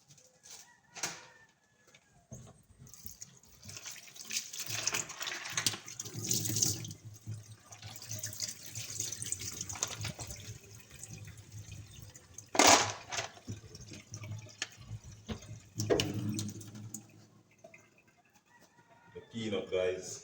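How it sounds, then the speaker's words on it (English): Peanuts rinsed under a running kitchen tap for Jamaican green plantain porridge, water splashing in irregular surges with a few sharper bursts, while chickens cluck in the background and a voice occasionally speaks. "I'm gonna rinse off the peanut"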